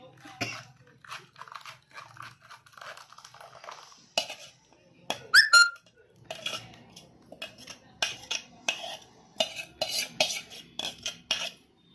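Metal spoon scraping and clinking against a pot in repeated bursts, with scattered sharp knocks and a brief squeak, close and moderately loud.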